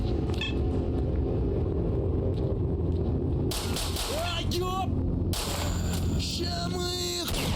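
Heavy shotgun blasts boom out in S.T.A.L.K.E.R. Shadow of Chernobyl, loud, close and in separate bursts over a constant low game rumble, with sharp cat-like squeals and a voice talking now and then.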